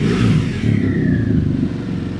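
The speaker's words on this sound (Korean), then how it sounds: "아크라 퍼빙 머플러도 상당히 부드러운 소리를 내고 있고" A 2018 BMW R1200GS Adventure in triple black, its boxer twin idling through an Akrapovic exhaust: a smooth, low, steady burble with a soft mechanical undertone, close and continuous.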